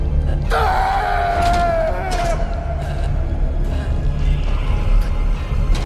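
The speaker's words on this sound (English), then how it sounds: "James drops to his knees and lets out a harrowing scream" James, the male protagonist of the Silent Hill horror video game, lets out a harrowing, drawn-out scream with falling pitch over a dark, rumbling game soundscape.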